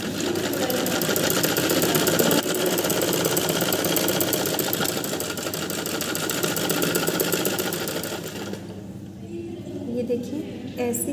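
A sewing machine stitching the lining tucks of a smocking frock, a fast, even mechanical whirr running steadily and close for about eight seconds before stopping, with a few faint handling sounds afterward.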